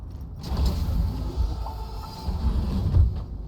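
A Quadra car driving in Cyberpunk 2077, a low engine rumble that swells and eases, steady and close with no other sounds on top.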